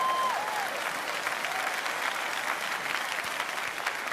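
A church congregation applauds steadily, a dense wash of many hands clapping throughout, with no pause and a faint high tone at the start.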